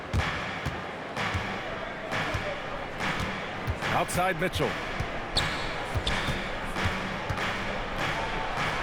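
Basketball bounces repeatedly on a hardwood court in NBA 2K26, sharp rhythmic thuds and squeaks under continuous play-by-play commentary and crowd murmur.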